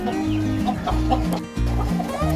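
A hen clucks repeatedly at close range, in loud rhythmic bursts with a brief pause partway through, with no talking.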